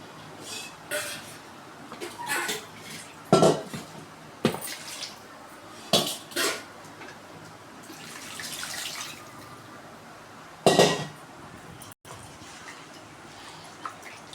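Fish being rinsed in water in a vessel for Sheela meen kulambu, with intermittent splashes, sloshing and light clinks of the container in separate bursts over a quiet background.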